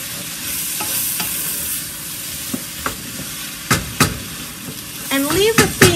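Tomatoes and mushrooms frying in a pan on the stove, with a steady loud sizzle throughout and several sharp clicks and scrapes of stirring, growing busier toward the end.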